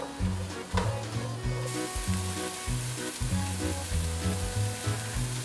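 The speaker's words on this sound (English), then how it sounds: "we're going to add in our onion, celery, and carrots. We're going to saute for about 5 minutes until they are slightly tender." Onion, celery and carrots sauté in a pan, giving a close sizzle with stirring clatter and scraping layered over it, while a low rhythmic hum pulses beneath throughout.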